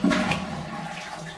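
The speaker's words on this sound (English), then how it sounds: "just used to flush the toilet" A GROHE Skate Cosmopolitan flush plate sends a toilet into a full rushing, gurgling flush, loud and close in a bathroom with no talking.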